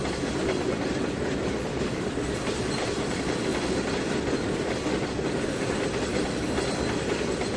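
Train shunting in the Trainz 2019 railway simulator game, a steady, moderately quiet rolling rumble of wheels on track with no breaks or voices.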